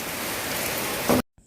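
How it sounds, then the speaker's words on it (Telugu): Heavy rain with big drops falls steadily as a dense, even hiss of broadband noise, close and continuous, cutting off abruptly near the end. "ఇంకా వర్షం అయితే అందుకుందనమాట పెద్ద పెద్ద చినుకులతో స్టార్ట్ అయింది"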